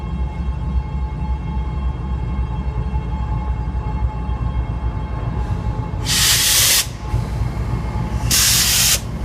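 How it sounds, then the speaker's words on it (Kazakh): A diesel locomotive hauls the Uzbekistan branded passenger train past Turkistan with a steady loud rolling rumble, and two sharp bursts of hiss cut in near the end. "Ал енді міне пойыз жүріп жатыр."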